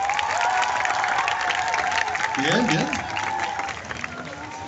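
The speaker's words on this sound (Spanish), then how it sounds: "quiero escuchar el aplauso para la pareja número uno" An audience at a Christmas rock show at Six Flags México claps and cheers for the first couple, a dense continuous wash of applause with a voice speaking over it.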